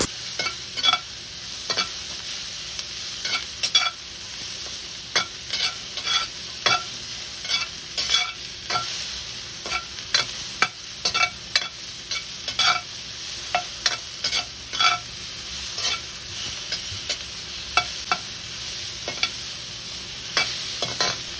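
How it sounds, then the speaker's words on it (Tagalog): Onions and tomatoes being stirred and sautéed in a pan until softened, giving a continuous close sizzle with frequent sharp scraping and tapping strokes of the spoon at an irregular rhythm, no voices. "Halo-haluin hanggang sumalanta ang sibuyas at kamatis."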